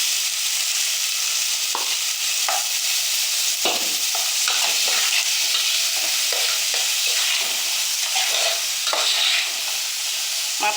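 Onions fry in a pan with a steady, close sizzle, broken by repeated scraping strokes as a utensil stirs them at an irregular pace.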